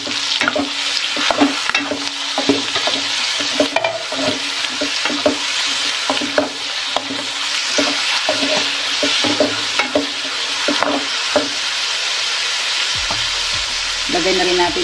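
Pork sizzles and fries in a pan while being stirred for dinuguan, a constant crackling hiss broken by repeated scraping stirs, with a short clatter near the end.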